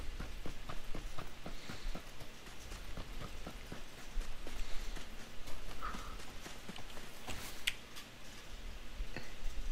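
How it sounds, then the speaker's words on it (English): Rapid footsteps in PUBG on the Miramar desert map, a steady run of sharp, regular clicking steps over a low rumble of game ambience, with a brief dip near the end. "Listen, listen for footsteps."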